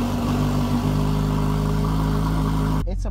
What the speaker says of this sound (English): this is a real gruff, rough sounding engine